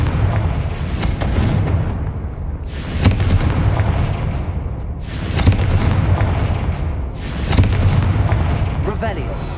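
Confringo fire spell blasts in the Hogwarts Legacy video game, four heavy booming explosions at roughly regular intervals, each trailing off in a long rumble, loud and close.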